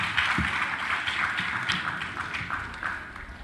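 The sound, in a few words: audience applause for debate speakers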